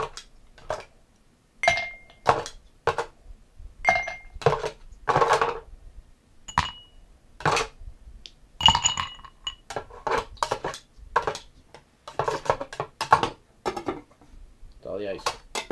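Ice cubes clink and rattle against glass while a vodka cocktail is being made, with a run of sharp, irregular clinks close by and a voice speaking at intervals between them.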